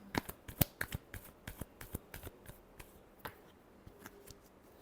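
Tarot cards being shuffled by hand, a quick series of soft, crisp flicks and taps in an irregular rhythm, quiet and close, with no talking.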